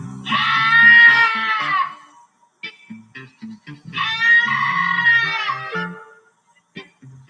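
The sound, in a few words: video game creature screaming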